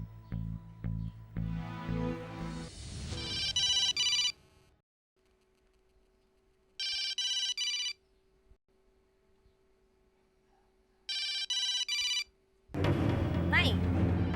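A phone rings unanswered indoors in a Marathi TV serial, repeated trilling bursts separated by silence, with someone speaking before and after the rings.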